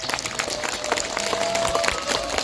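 Steady applause from an audience at a Buddhist Buddha's Birthday lantern-lighting ceremony, honoring a senior monk. It runs as a dense, even patter of many hands for the whole stretch, with no voices over it.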